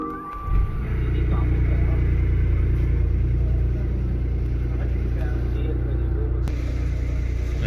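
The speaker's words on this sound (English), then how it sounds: "Now we are going to start the vehicle and check the voltages." A BMW i8 Roadster's drive system starts after an AGM battery replacement and runs with a steady, loud, low rumble close by, with a brief surge as it comes on.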